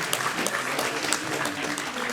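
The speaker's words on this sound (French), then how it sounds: "vous pouvez également applaudir," Audience applause at a conference opening, a dense steady clapping from a seated crowd lasting the whole moment.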